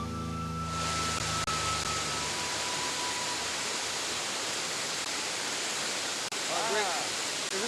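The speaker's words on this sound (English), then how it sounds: "Just check that waterfall, man. It's beautiful, huh?" A waterfall in Belize roars as a steady, loud, broadband rush of falling water that fills the whole clip, with a voice talking briefly near the start over it.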